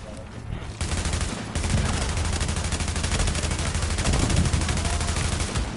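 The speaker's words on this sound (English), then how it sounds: "I had a bunch of LMG shooting at me." Light machine gun fire in The Division video game rattles in sustained rapid bursts, loud and continuous for several seconds, dense overlapping shots after a brief quieter start.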